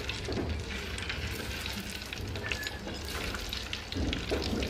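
Potatoes frying in hot oil in a pan, a continuous close sizzle with bubbling crackle and a few soft stirring bumps, no talking.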